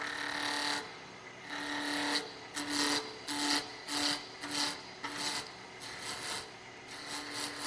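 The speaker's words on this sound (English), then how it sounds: "Back to our spindle roughing gouge. Same thing, working from in the wood to the out." A spindle roughing gouge cuts a spinning wood blank on a lathe while a finial is turned, giving a steady scraping hiss with a low motor hum beneath and a rhythmic series of repeated, pulsing cutting passes.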